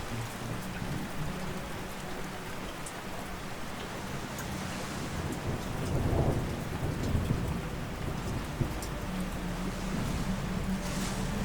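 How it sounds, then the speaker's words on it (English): Steady heavy rain pours down through a thunderstorm, with rolling thunder swelling midway and a constant hiss of drops on surfaces throughout, no voices. "As the lightning and thunder crackle, you stay on course."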